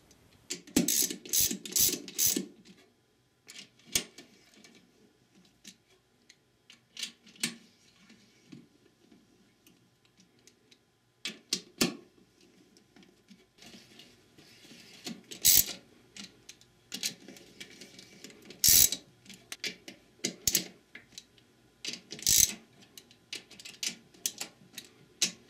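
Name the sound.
ratchet with 10mm socket tightening transmission pump bolts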